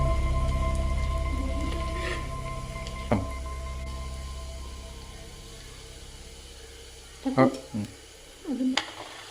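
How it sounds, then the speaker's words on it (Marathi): Onions fry in a pan for a pressure-cooker mutton curry, giving a soft, rain-like sizzle beneath a talking voice that fades and returns with a few brief louder bursts toward the end. "कांदा गोल्डन कलरचा होईपर्यंत याला फ्राय करायचा आहे।"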